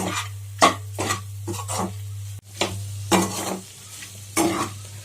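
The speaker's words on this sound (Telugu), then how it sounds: "ఒక 2 మినిట్స్ ఫ్రై చేసుకుందాం." Boti, goat tripe, stir-fries in a pan with a low sizzle, broken by repeated scraping strokes of a spatula against the metal at an irregular pace, with a steady low hum underneath.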